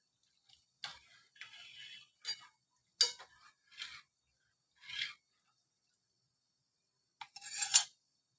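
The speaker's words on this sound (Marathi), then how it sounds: "परत एकदा ह्याला हलवून घ्यायचं आणि छान उकळू द्यायचं ह्याला." A spoon stirring kadhi in a pot on the boil, giving a few separate scraping, clinking strokes with short pauses between them and a final burst near the end, close and fairly quiet.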